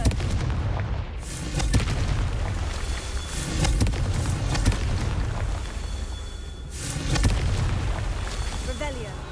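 Repeated fire-spell explosions from the Hogwarts Legacy video game, loud dense booms and crackling blasts recurring throughout over a constant rumbling game background.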